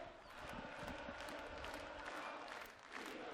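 A darts crowd at the 2019 German Darts Open, during Peter Wright versus Dave Chisnall, claps and cheers in a continuous, fairly distant roar of many people.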